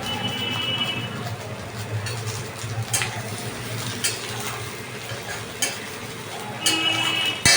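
Onion and garlic frying in a pan for garlic soup Maggi noodles, a steady sizzle with occasional scraping stirs and clinks, close and fairly loud with no talking.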